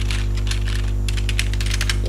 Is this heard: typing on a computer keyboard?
yes